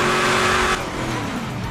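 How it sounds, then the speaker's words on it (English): A black McLaren supercar in GTA roars loudly up close with a high engine whine for under a second, then drops off to a lower, steadier drone as it drives on. "Kereta McLaren, McLaren."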